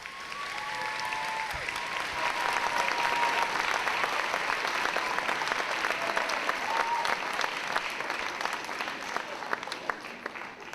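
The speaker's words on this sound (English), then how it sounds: "give a round of applause to all of the veterans" Sustained applause from a crowd at a middle school Veterans Day assembly, steady and full throughout, with many hands clapping densely and no break.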